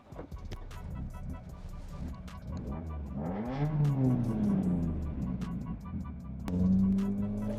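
A Toyota 4A-GE rally car engine runs near by with a hunting idle from a fuelling fault, its pitch swelling up and sinking back down rather than holding steady, with a few sharp clicks and knocks around it.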